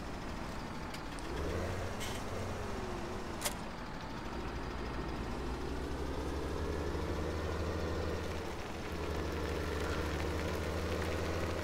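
Steady low diesel drone of a tractor engine idling close by, a continuous rumbling hum with a few clunks and knocks near the start.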